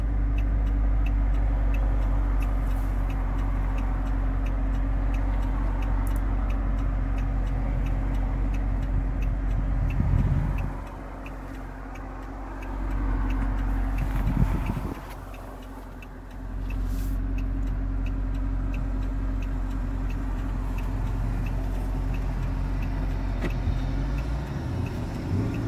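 2014 Dodge SRT Charger fitted with a Corsa exhaust on a test drive, a steady low engine drone heard from inside the car with a couple of brief swells as it accelerates.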